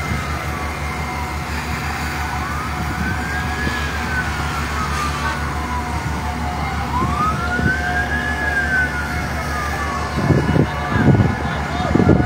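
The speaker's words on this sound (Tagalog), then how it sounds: "Fire truck." A fire truck siren wails, rising and falling in slow sweeps over a steady engine rumble, near a vehicle fire in an airport parking area, with voices talking nearby toward the end.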